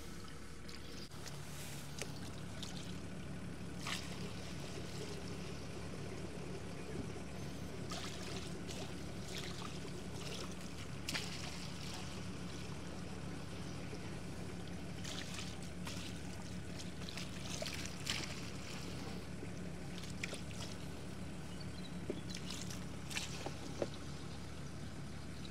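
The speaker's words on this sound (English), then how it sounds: "So I'll just stir up the gravel on the bottom" Gravel stirred through dirty diesel at the bottom of the fuel tank of a 60-year-old V12 two-stroke Detroit dump truck, a steady close sloshing and trickling of liquid with faint gritty scrapes running throughout.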